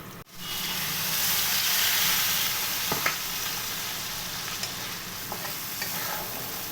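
Spice paste hitting a pan of potatoes already fried red, bursting into a loud steady sizzle with occasional scrapes and clinks of stirring, close up and with no voices.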